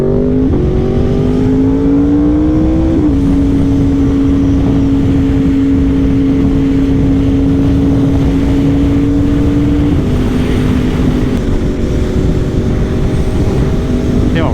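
A 2024 Yamaha R1 motorcycle engine after a Stage 1+ ECU flash drones loudly and steadily, its pitch climbing over the first few seconds and then holding, with voices talking over it.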